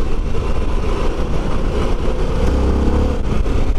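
Harley-Davidson Pan American V-twin motorcycle engine accelerating, a loud, steady, dense roar with low rumble and broadband road and wind noise throughout, no talk.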